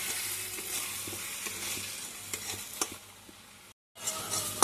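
Egg and taro being stirred in a frying pan, a soft continuous sizzle with scraping spatula strokes, steady and close, briefly cut to silence near the end.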